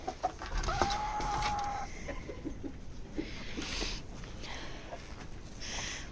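Chickens on a farm clucking and murmuring close by, with a brief high squawk and scattered rustling and movement around them, no talk.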